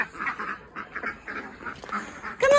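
Ducks in a garden quack repeatedly in a busy, uneven chorus of nasal calls, close and fairly loud, ending with a sharper honking burst.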